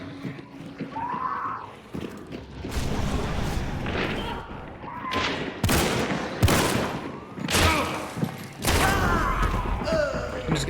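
Gunfire in the online shooter game Hunt: Showdown, a dense series of sharp shots and heavy booms ringing out loudly and repeatedly over about ten seconds, some close and punchy, others echoing.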